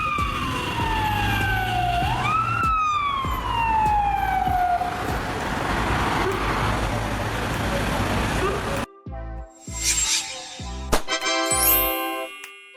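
A European ambulance siren, such as on a Mercedes-Benz Sprinter, Volkswagen Crafter or Fiat Ducato, wails loudly in sweeping rising and falling tones for several seconds. Choppy electronic warning tones and beeps follow it.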